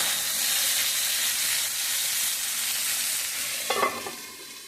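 A steady sizzling hiss rises from slices of elephant-foot-yam-like tuber cooking on a hot griddle, with a brief clatter of a utensil near the end.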